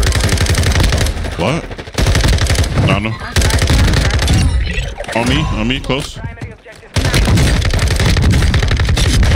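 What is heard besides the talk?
gunfire in video game Warzone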